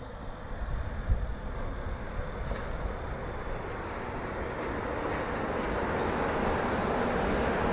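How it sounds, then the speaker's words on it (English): A Walt Disney World monorail passing near an outdoor walking path on a windy day, a steady low rumble and whoosh that slowly grows louder across the clip, with wind noise throughout. "Do I hear a monorail? Oh, yeah. Oh, I certainly do."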